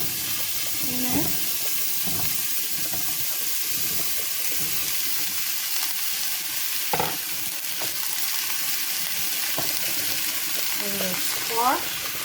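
Zucchini frying in butter in a pan gives a steady sizzle throughout, with occasional stirring clatter and brief faint voice-like sounds over it.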